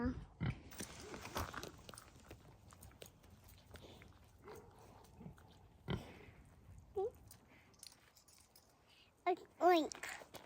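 Pigs play and eat on a farm near Flagstaff, Arizona, making scattered grunts, snuffles and oinks with a few sharp squeals near the end, while people talk throughout.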